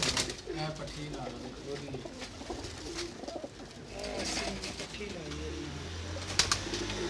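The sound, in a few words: pigeons cooing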